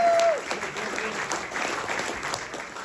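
Audience applause for a speaker at a sound and vision gala launch event, a steady dense wash of clapping from a crowd that holds at even loudness throughout, with a brief tone at the very start.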